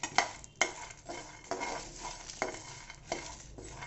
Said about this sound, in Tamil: ஸோ இது எல்லாத்தையுமே போட்டு நல்லா ட்ரை ரோஸ்ட் பண்ணி எடுக்க போகிறோம்.